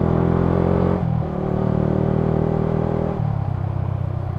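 Yamaha Sniper 155R motorcycle engine braking with rev-matched downshifts, a loud, steady close-up engine drone whose pitch drops in two clear steps as the gears change.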